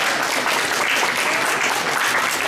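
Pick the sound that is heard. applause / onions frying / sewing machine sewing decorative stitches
applause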